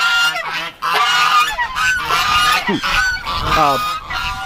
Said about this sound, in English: And hello there, Goose. Oh, you're a little upset, eh